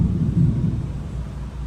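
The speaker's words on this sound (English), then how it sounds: "Even though I know y'all just heard some thunder." Low, dull thunder rumbles close by outdoors in the Winter Park area, a broad, heavy roar that swells and eases over a couple of seconds with no voices.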